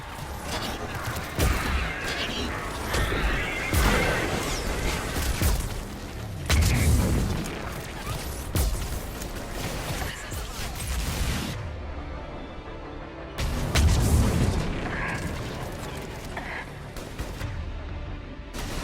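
Heavy combat in the Mass Effect 3 video game, with repeated booming missile blasts and gunfire rolling through a dense, loud battle mix, several strong impacts spaced across the scene.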